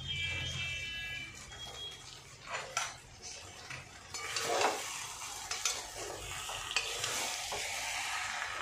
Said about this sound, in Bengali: এবার ভালো করে এগুলোর সঙ্গে ঘি গরম মশলা মিশিয়ে দেব।